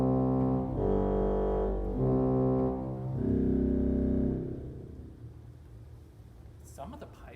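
A pipe organ sounds low pedal notes, deep sustained tones in a few long chords that fade away, with a voice heard faintly near the end.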